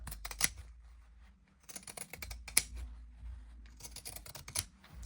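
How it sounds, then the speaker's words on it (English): Pinking shears trimming a sewn fabric seam at the curve of a crescent bag, giving several bursts of crisp clicky snips separated by brief pauses, close and fairly quiet with no talking. "Now I'm going to trim this seam using pinking shears"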